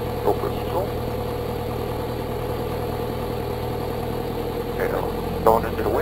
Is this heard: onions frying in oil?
no